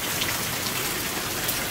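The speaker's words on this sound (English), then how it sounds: "Rain." Steady rain falling outdoors during an unusually wet August in the Big South Fork area, a dense even patter of drops on surfaces with no pauses, fairly close and moderately loud, with no voices.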